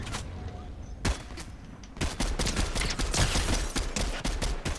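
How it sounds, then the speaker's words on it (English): Video game gunfire crackles in rapid bursts, an isolated shot early and then dense, loud volleys continuing to the end, with a voice talking underneath. "Someone's shooting me from behind."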